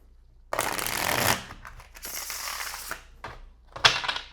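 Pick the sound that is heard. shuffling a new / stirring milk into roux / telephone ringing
shuffling a new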